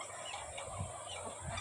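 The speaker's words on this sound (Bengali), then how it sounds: "গিনি ফাউল অর্থাৎ চীনা মুরগিও বলে" Guinea fowl and chickens call in a yard, giving faint gobbling, clucking cries at a distance over a constant background hiss. No voices are heard.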